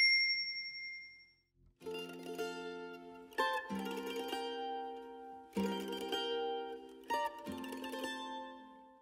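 Notification bell sound effect: a faint high tone, then four bright ringing chime strikes spaced evenly, each decaying slowly, clear and close with no speech.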